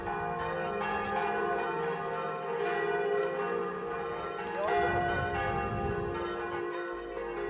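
Church bells ring at the start of a pilgrimage to the Madonna Luggau sanctuary near the Austria–Friuli border, a sustained, layered metallic hum with overlapping tones, moderately loud and somewhat distant, continuing throughout.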